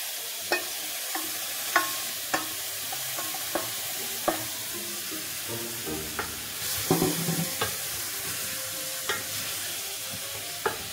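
Onion and celeriac being stirred through food in a pan, with a spoon scraping and knocking the pan at irregular intervals over a soft, steady sizzle, close and moderately loud.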